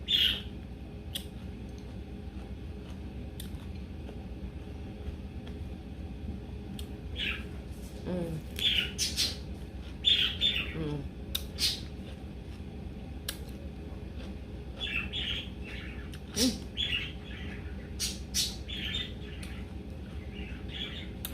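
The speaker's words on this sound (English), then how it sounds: "The bird is going off." A pet bird gives off scattered sharp chirps and squawks in short bursts, fairly close, over a steady low background hum.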